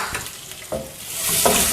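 Chopped onions for sambar sizzle in a hot pan while being sautéed and stirred, a steady close frying hiss with a few soft scraping stirs.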